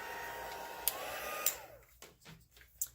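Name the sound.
heat gun melting embossing powder on vellum cardstock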